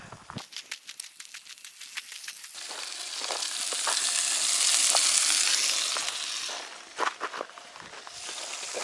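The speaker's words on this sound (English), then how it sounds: "Cooking dinner." Dinner frying on a camp stove at the North Rim of the Grand Canyon, a steady close sizzle that swells loudest midway, with scattered clicks and scrapes of stirring and handling throughout.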